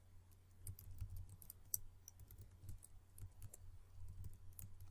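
Keys clatter on a computer keyboard as MATLAB code is entered, quick irregular clicks in short bursts, faint and close, with no talking.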